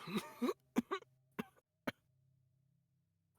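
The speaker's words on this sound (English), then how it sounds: "you can just hear the very pained cough" A series of rough, strained coughs, several in a row then a couple of isolated ones, close by and followed by quiet.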